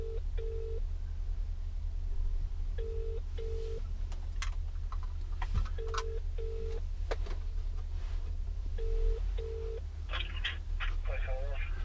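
A lorry driver places a phone call from the cab of his HGV, with a repeated two-tone ringing pattern cycling steadily through the clip over a constant low engine rumble and faint cab noises.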